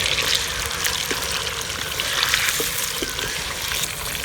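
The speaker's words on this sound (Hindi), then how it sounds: "उसी ऑयल में जो है वो चिकन शामिल करेंगे। चिकन को भी अच्छी तरह फ्राई कर लेंगे।" Chicken pieces fry in hot oil in a home kitchen pan, cooked for a dry chicken and okra salan, giving a steady, dense sizzle with scattered pops and crackles close by, with no talking.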